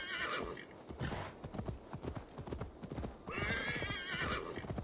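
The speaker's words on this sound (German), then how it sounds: "Hier so über die Wiese zu reiten, das macht schon Laune." A horse gallops across a meadow in Assassin's Creed Valhalla, steady rapid hoofbeats thudding throughout with a couple of loud neighs and whinnies rising over them.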